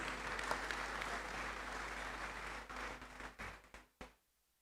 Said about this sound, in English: Please let's welcome her with a round of applause.